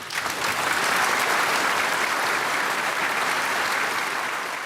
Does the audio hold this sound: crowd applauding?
yes